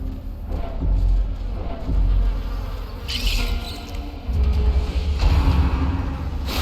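A buzzing insect-swarm whine from the Maddening Whine attack in the video game Darkest Dungeon, a steady droning hum that swells and fades in waves over low rumbling, with no voices.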